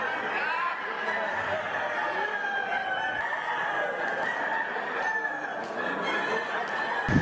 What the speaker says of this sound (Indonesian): Ini ayamnya kau kecil kali.